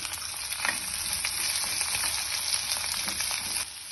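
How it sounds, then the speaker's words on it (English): Chopped onion frying in hot oil with chopped garlic and dry red chili in a pan, a steady, close sizzle with faint stirring scrapes running throughout. "To this, I'm adding chopped onion."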